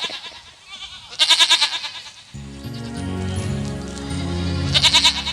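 Goat bleats ring out in repeated bursts at the start and again at the end, set against the loud music and voices of a rural Bhagait folk dance stage show.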